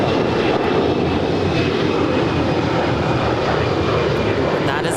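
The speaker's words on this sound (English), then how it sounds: "That is Alaska 220 off to Puerto Vallarta. It's an 11-year-old A320." An Alaska Airlines Airbus A320, eleven years old, takes off at Los Angeles International Airport with a loud, continuous roar of jet engines that stays steady and close throughout.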